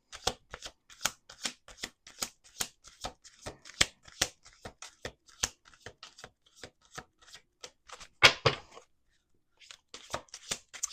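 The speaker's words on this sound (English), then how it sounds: "We're going to do two more shuffles." Deck of playing cards shuffled by hand, a rapid run of crisp close riffles and snaps in quick succession with short gaps between, fairly quiet, with one louder burst near the end.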